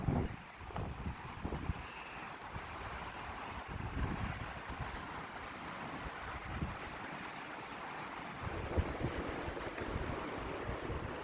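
Strong wind gusts buffet the microphone outdoors on a blustery day near beehives, a steady loud roar with heavier bursts, no voices.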